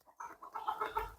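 Young Andijan black chicks, about 70 days old, chirping and clucking softly in a rhythmic series of short calls, fairly close and moderately loud, with no talk over them.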